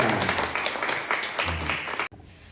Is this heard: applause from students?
yes